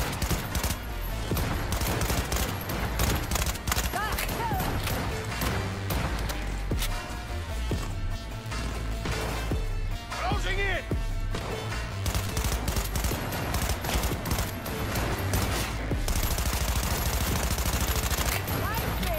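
Gunfire in the video game Cyberpunk 2077: dense, continuous bursts of shots and rapid automatic fire that stay loud throughout, layered with game sound effects, while someone talks over parts of it.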